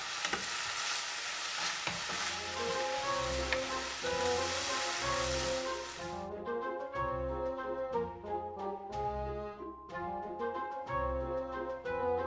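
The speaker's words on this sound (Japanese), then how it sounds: "砂糖小さじ3、醤油小さじ2を加えて汁気がなくなるまで炒めて完成です。" Dandelion stir-fried with sugar and soy sauce in a pan hisses with a dense, steady sizzle for the first half, then fades under a melodic background music track.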